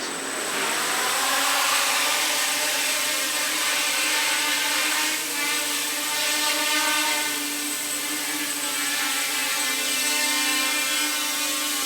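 Motors of a small DIY quadcopter with an APM 2.5 flight controller running ArduCopter spin up after arming in a garage, a steady loud whine with stacked harmonic tones that holds for the whole stretch, with no talk.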